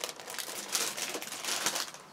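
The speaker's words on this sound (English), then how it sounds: "these are all in really, really crinkly plastic bags again" Crinkly plastic bags holding model kit parts rustle and crackle continuously, close by and fairly soft, with no talking.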